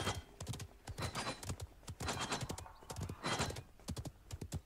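Horse mount galloping in the video game Realm Royale, a fast, steady run of hoof clops in quick clusters, close and loud, with no talk over it.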